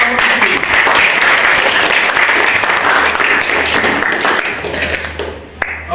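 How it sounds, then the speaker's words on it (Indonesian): Applause for a winning student group in a classroom, a dense wash of clapping that fills the room steadily throughout and thins slightly near the end. "Tepuk tangan untuk kelompok Rizky."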